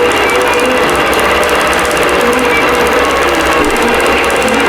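An embroidery machine stitches an applique design, a loud, steady, dense mechanical whir and rapid needle clatter that runs without a break.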